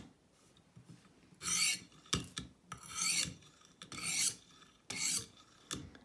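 Knife blade drawn across a Stonehocker Kodiak sharpener stone in five rasping strokes, each a bright scraping swipe separated by short pauses and light clicks, close and alone with no talk.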